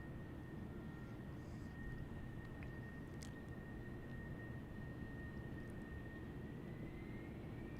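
F-16 military jets at Tucson International Airport give a steady, broad roar that holds constant throughout, distant rather than close, with no passing peak.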